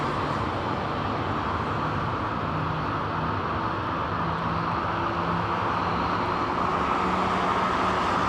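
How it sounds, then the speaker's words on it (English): A WestJet airliner taxiing out at London Heathrow, a steady, continuous engine rumble and whine holding at an even level throughout, with distant airport noise around it. "WestJet Streamliner taxiing out"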